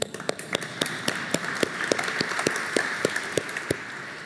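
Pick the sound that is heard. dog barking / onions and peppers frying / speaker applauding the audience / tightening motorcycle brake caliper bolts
speaker applauding the audience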